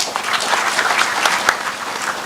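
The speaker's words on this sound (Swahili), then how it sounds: "Tumuongeze makofi tafadhali" An audience at a youth engagement forum in Makueni County applauds a speaker, with many hands clapping in a steady, moderately loud wash and a few sharper claps standing out, with no talking over it.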